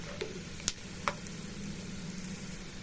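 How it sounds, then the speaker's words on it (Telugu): Two tablespoons of peanuts fry in a pan for a bendakaya (okra) dish, giving a steady close sizzle broken by a few sharp clicks of stirring, with no one talking. "టూ టేబుల్ స్పూన్ పల్లీలను వేసుకొని వేయించుకోవాలి."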